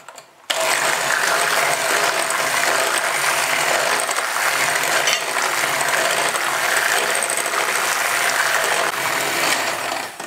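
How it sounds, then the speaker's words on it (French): Sugar and whole eggs are beaten with an electric whisk until pale and doubled, a loud continuous rattling whir with a fast mechanical clatter that runs steadily for about ten seconds with no talking. "On va fouetter le sucre et les œufs entiers jusqu'à ce que le mélange blanchisse et double de volume."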